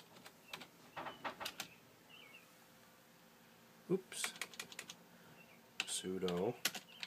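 Quick bursts of typing on a computer keyboard entering a command, close clicks in short clusters separated by pauses, ending with a brief whirring electric sound.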